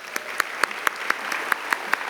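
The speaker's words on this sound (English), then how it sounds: "So let's give Michelle an applause." Audience members at a National Philanthropy Day award event clap in a sparse, slow rhythm of distinct individual claps, about ten sharp beats in two seconds over a quiet room.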